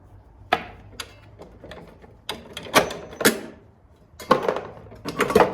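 Wrench clicks and metallic knocks as the arbor nut on a Ryobi table saw blade is loosened while the spindle is held, a series of sharp close taps and ratcheting ticks spread irregularly across several seconds.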